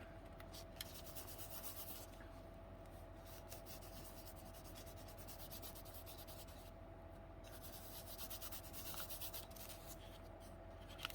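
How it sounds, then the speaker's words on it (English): Gilding wax is rubbed onto a playing card in a continuous dry scuffing and rasping, close and quiet, with brief pauses between strokes. "Let me just do this gilding wax on here."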